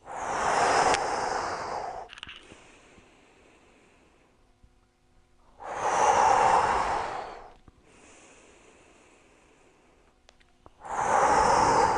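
Slow, deep breathing during a guided relaxation exercise: three long, loud inhalations, each followed by a softer, drawn-out exhalation, in a steady, unhurried rhythm with no talking.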